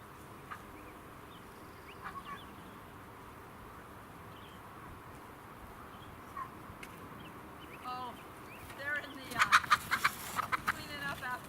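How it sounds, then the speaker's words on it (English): Turkeys on a farm pasture along a fence make faint clucks and soft calls, growing into a quicker flurry of gobbling near the end against quiet outdoor background. "Big turkeys that they are."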